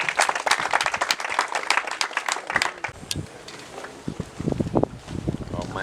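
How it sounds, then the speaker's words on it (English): An audience claps for the Minister for Higher Education at the opening ceremony of a 2023 under-15 football summer camp. Dense, fairly close applause fills the first three seconds, then fades into someone speaking. "Just please clap for him."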